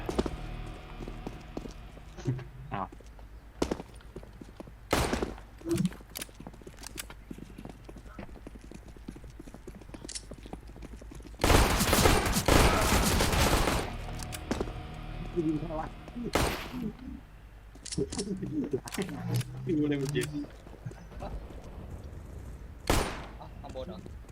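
Gunfire in the online shooter CS:GO, with scattered sharp shots spread throughout and one heavy sustained burst of rapid fire in the middle, set against game ambience and players chatting.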